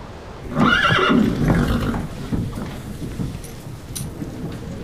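A horse whinnies loudly and close by, a rising then falling neigh lasting about a second and a half, followed by quieter rustling, faint hoof-like knocks and outdoor ambience.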